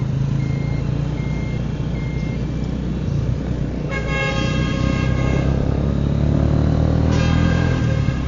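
A truck on a busy Vietnam street sounds its horn in two bright, harmonic blasts, the first lasting several seconds and the second shorter, above a loud, steady rumble of engines and traffic.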